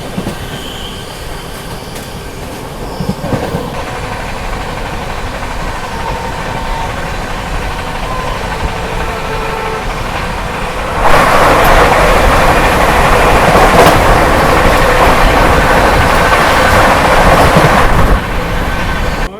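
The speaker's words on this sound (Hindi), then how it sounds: "आ रही है इस रूट की सबसे फास्टेस्ट ट्रेन, वाराणसी वंदे भारत" The New Delhi–Varanasi Vande Bharat Express roars past a moving train near Etawah, bringing loud rail rumble and wheel squeal and then a sustained rushing blast lasting several seconds before it fades.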